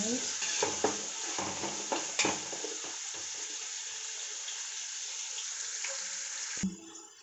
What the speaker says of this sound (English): I'm going to stir back again